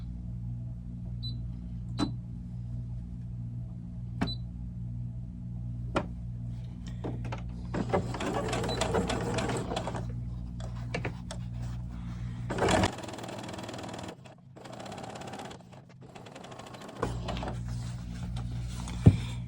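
Sewing machine straight-stitching the seams of 18-inch doll pants, a close mechanical whirring in short bursts between pauses and handling clicks, with a steady background hum throughout.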